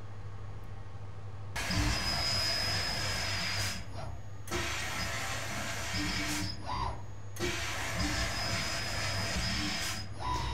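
A water jet cutting machine runs a cutting program, giving a steady high-pressure hiss over a low mechanical hum, with louder spray bursts every couple of seconds and no voices.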